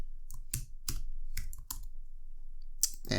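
HTML code is being typed on a computer keyboard: quick, close, crisp key clicks in short irregular runs, with brief pauses between them.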